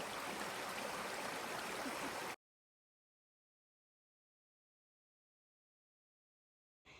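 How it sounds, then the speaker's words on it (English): A woodland stream with little cascades along a trail in Susquehannock State Park rushes in a steady, dense wash of water for a couple of seconds, then cuts to silence before briefly returning. "You got the sounds of the water. Got little cascades to look at."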